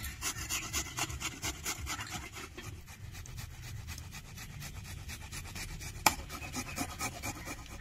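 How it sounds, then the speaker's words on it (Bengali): Two onions rubbed against a kitchen grater in steady back-and-forth rasping strokes, close and alone with no talk, a brief sharp knock near the end. "পেঁয়াজ দুটোকে আমি গ্রেট করে নেব।"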